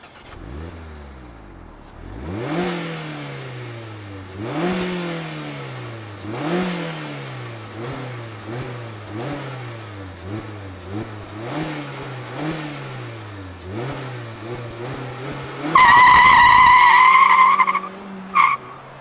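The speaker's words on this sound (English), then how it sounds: "let's fire it up and hear what this Miata sounds like" A 2023 Mazda MX-5 RF Miata engine starts, then revs repeatedly in rising and falling surges, ending with a loud high-pitched blip before cutting off; no talking.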